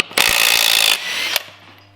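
A wheel bolt comes off a Toyota Hilux Surf: a loud, close burst of mechanical ratcheting or whirring lasting under a second, then a single sharp click and a fading tail, with no talk.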